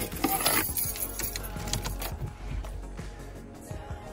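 Car keys for a Dodge Avenger jangle and clink in a hand, close and fairly loud at first, then settle into lighter scattered rattles and handling noise.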